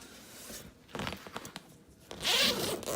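A zipper is pulled open on a large PUSH Paintball roller bag, several short rasping tugs followed by a longer, louder continuous zip close by.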